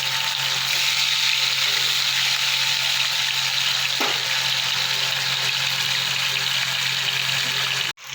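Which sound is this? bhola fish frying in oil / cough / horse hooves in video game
bhola fish frying in oil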